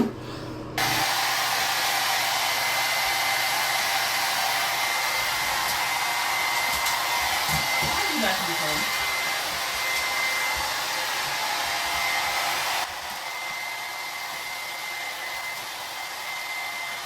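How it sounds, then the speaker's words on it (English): A hair dryer blows steadily while drying a dog with sensitive skin at home, a loud continuous whoosh running the whole length with a slight drop in level near the end. "now we have to blow dry her because she has really sensitive skin"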